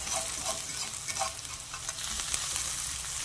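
Onions and apples sizzle and fry in a hot skillet, a steady close crackle with soft stirring scrapes throughout and no voices.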